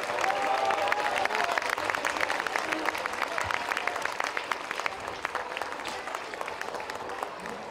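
An audience at a parish Christmas show in a tent applauds Luc, the stage director, with dense, even clapping that continues the whole time alongside some crowd noise.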